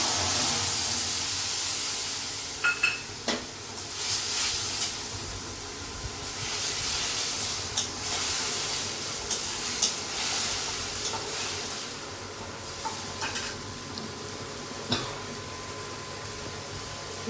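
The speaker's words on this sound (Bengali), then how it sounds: "এরপর কড়াতে তেল বসিয়ে দিয়েছি, গোটা জিরে দিয়েছি আর এই যে মশলার পেস্টটা দিয়ে দিচ্ছি" Spice paste sizzles in hot oil with whole cumin seeds in a wok, a steady close frying hiss with scattered sharper crackles and occasional clatters, no voices.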